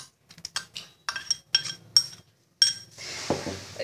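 Cucumber paste spooned into yogurt for raita, with a run of sharp clinks of a spoon against a bowl followed by a soft, wet stirring scrape, close and alone without talk.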